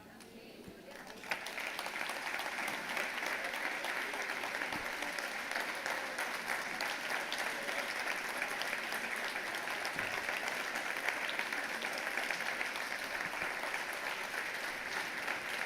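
Church congregation applause rises after a second and holds steady, a continuous wash of clapping heard from some distance, with voices faintly mixed in.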